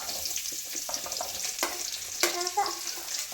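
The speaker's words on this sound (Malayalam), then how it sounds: "ചീനിച്ചട്ടി വെച്ച് കുറച്ച് വെളിച്ചെണ്ണ ഒഴിച്ച് വെളിച്ചെണ്ണ ചൂടായി വന്നപ്പോൾ നമ്മൾ ഉള്ളി അങ്ങോട്ട് ഇട്ട് കൊടുക്കുകയാണ്." Onions land in hot coconut oil in an iron wok and crackle in a close, busy sizzle with a few sharper pops and spits. There is no talking.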